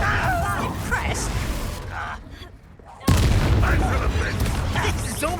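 A Confringo blasting spell explodes in Hogwarts Legacy with a sudden loud boom after a short lull, and dense game combat noise and voices surround it.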